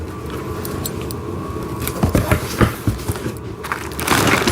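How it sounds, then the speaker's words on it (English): Wooden train set pieces are pulled from plastic packaging, producing close, loud crinkling and crunching that grows busier toward the end, with no talking. "Unwrap some of this."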